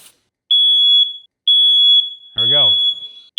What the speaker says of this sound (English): for this demo, we're going to do a smoke alarm trigger